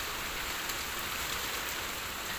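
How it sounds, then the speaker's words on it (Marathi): Summer rain falls steadily and evenly, a dense, constant hiss of drops on surfaces with no voices. "वारं सुटेल तसं पावसाचाही जोर वाढायला लागलेला आहे"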